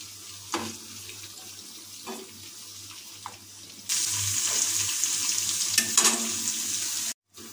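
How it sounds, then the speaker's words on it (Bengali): Snake gourd pakoras hit hot oil with a few soft clicks and knocks, then a loud, steady sizzling hiss starts partway through and carries on, broken by a short drop-out near the end. "এই গরম তেলের মধ্যে আমরা একটা করে পকোড়াগুলোকে ছেড়ে দেব।"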